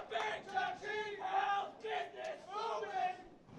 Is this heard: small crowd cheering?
yes